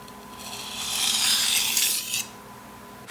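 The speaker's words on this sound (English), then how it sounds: "using the left side, perform one edge leading stroke as such" One smooth edge-leading stroke of a knife blade across the 600 grit side of a whetstone: a single soft, hissing rasp that swells and fades over about a second, close and alone with no talking.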